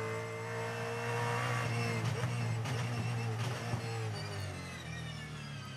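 A Supercars race car brakes hard into turn two, its engine note dropping through downshifts with crackling blips, heard from trackside at a moderate distance.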